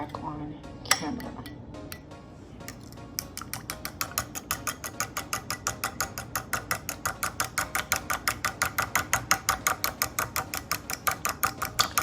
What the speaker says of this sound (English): We're gonna whisk everything together